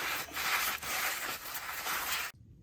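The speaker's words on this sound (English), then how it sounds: "Take the scrubber to it." A scrubber rubs hard against a Ford F-150 front brake rotor sprayed with PB Blaster, giving a continuous close, gritty scraping that runs steadily with brief strokes before stopping abruptly.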